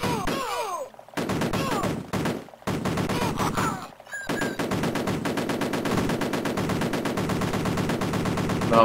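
Rapid machine-gun fire and gunshots from the Amiga war game Cannon Fodder, loud and nearly continuous with brief gaps, dense bursts layered over game sounds.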